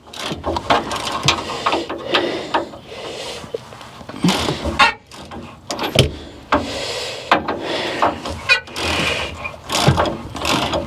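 A hand ratchet turns loose spinning bolts on a 1971 Ford F350 truck raised on a jack, bursts of rapid metallic clicking repeating in short strokes, close and loud with small clanks between.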